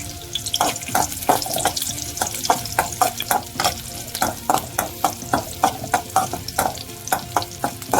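Halved dried red chillies fry in hot oil for a red chutney, with a steady crackling sizzle broken by regular stirring clicks of a spoon against the pan, close and fairly loud, with no voices.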